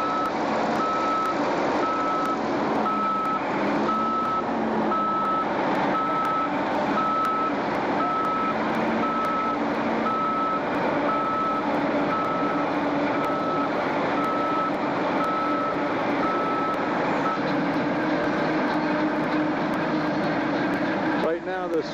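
A big end loader reverses in a mining pit while pulling a cable sled, with a steady, rhythmic reversing beep over a heavy, continuous engine drone and someone talking.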